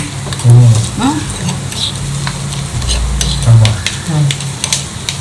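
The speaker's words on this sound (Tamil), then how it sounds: "நான் வந்து கடுகு, உளுத்தம்பருப்பு, கடலைப்பருப்பு தாளிக்க போகிறேன்." Mustard seeds, urad dal and chana dal crackle and sizzle in hot oil while a spoon stirs and scrapes the pan, with soft popping throughout.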